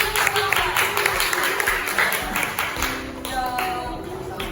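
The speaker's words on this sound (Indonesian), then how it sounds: "Oke, kasih aplaus." Applause from a classroom group during a teaching session, steady dense clapping filling the whole moment, moderately loud, with some voices mixed in underneath.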